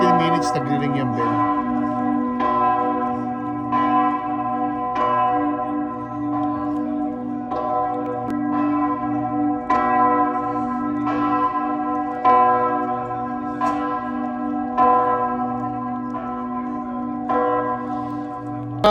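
A church bell tolls steadily in a quarter-hour chime at a Marian pilgrimage site, a rich ringing tone repeating roughly every second and a quarter over a sustained hum of overlapping strikes, loud and alone with no voices.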